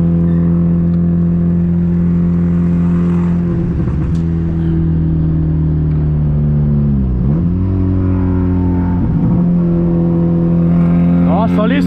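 A 1999 Honda Civic with a straight-pipe exhaust idles loud and close with a droning, rumbling note, blipped by several revs that dip and climb again, continuous throughout.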